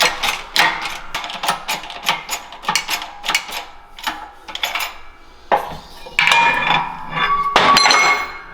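Metal on a Honda Talon shock being hammered flat, with a rapid series of sharp ringing clanks in uneven bursts, close and fairly loud, with no talking.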